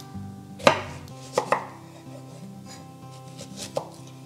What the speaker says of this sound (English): I'm going to cut it up into smaller bits so it's easier to chop up